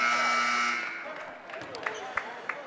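A loud electronic buzzer sounds in a high school gym at the end of the first half of a basketball game, holding steadily then cutting off, followed by crowd murmur, a few sneaker squeaks and a commentator talking.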